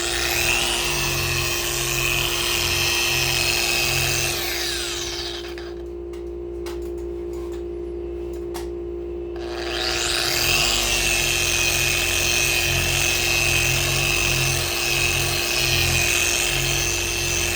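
Pedal-operated polishing buffer whirring steadily against a Telecaster guitar body, a loud broadband motor hum that drops away for about five seconds in the middle, then spins back up and runs on.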